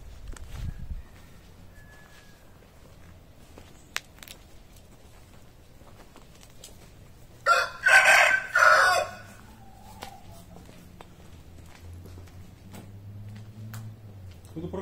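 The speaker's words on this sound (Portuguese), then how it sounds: "Ó, tá animado o galo aí, ó." On a rural farm property with a chicken coop, a rooster lets out one drawn-out crow at moderate distance. It rises above a soft ambient outdoor background and stands clear of it for about two seconds.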